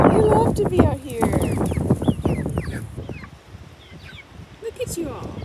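Young chickens on a porch chirping and peeping in many overlapping, busy calls close by, with some clucking and rustling throughout.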